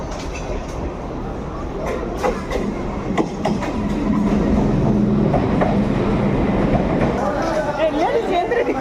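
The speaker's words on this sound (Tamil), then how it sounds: "Next train to Chengalpattu will arrive shortly on platform number 2." Train rolling into a station platform bound for Chengalpattu, a steady rumble with clattering wheel and rail noise building over several seconds, heard under a busy crowd of people talking nearby.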